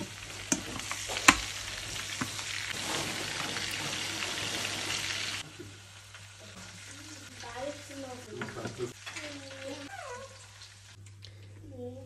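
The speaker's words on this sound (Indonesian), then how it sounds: "Ini siap kita goreng ya." Shrimp seasoned with salt, garlic powder and lemon fry in a pan, a loud, dense sizzle for several seconds that then drops to a softer crackle under faint talking.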